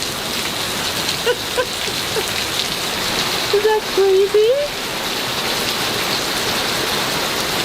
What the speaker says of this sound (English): So I think the rain may have just picked up a little bit